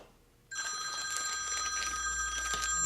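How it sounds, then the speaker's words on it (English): A telephone rings with an incoming call, starting abruptly after a moment of quiet and continuing as a steady electronic bell tone alone in a workshop. "And of course somebody's calling me,"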